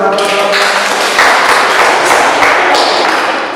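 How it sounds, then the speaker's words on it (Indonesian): A class of students claps together during a classroom-management lesson, a dense wash of applause building after the first second and holding steady, fairly loud, with a few thumps near the start. "Silakan tepuk tangan dulu."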